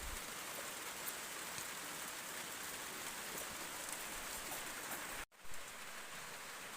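Steady rain pours down in a dense, even hiss, falling heavily on surfaces nearby at a farm garden during the first rain of the season, with a brief dropout near the end.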